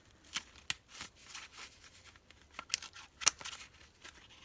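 A mail package being cut open with scissors, a few quiet snips and crisp rustling of paper or plastic at close range, irregular and faint, with no speech.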